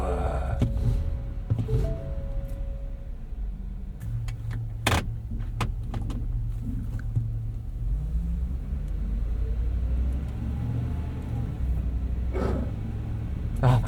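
A 26-foot U-Haul box truck is started and pulls away, its engine a deep continuous rumble with a low tone rising as it gets moving, plus scattered cab clicks and rattles close by.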